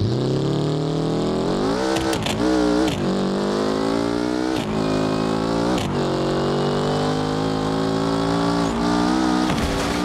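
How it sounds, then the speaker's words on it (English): A car engine in the BeamNG.drive driving game revs steadily with rising harmonic whine, a few sharp gear-shift dips breaking the sustained roar, loud and close with no talking. "Listen to that engine, dude."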